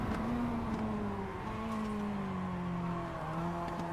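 MX-5 race car in iRacing at Tsukuba Circuit, engine droning steadily with shifting pitch as the throttle varies, continuous and close throughout.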